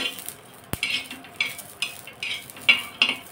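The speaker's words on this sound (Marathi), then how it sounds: "10-12 लसणाच्या पाकळ्या अगदी थोड्याशा परतून घ्यायच्या" Ten or twelve garlic cloves sautéing with roasted chillies on a hot griddle pan: a soft sizzle broken by a series of sharp scraping and stirring strokes at an uneven rhythm, close and fairly loud.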